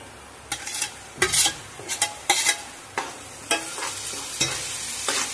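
Onion, curry leaves and green chili paste fry in a pan for chicken fry, a steady sizzle broken by repeated scraping stirs of a spatula, close and fairly loud, with no voices.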